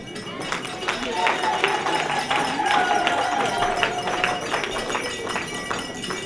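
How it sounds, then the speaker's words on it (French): Guests applaud a newly married couple at a wedding celebration, a dense, sustained wash of clapping that stays loud throughout, with a voice heard over it. "On les applaudit encore, on applaudit très fort pour le couple."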